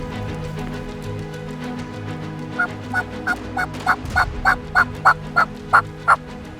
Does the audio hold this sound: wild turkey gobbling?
yes